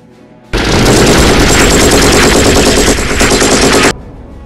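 Sustained burst of machine-gun fire layered with heavy gunfire, like a quad gun and heavy bolter opening up on a Carnifex brood in a Warhammer 40K battle, loud and dense for about three and a half seconds before cutting off abruptly.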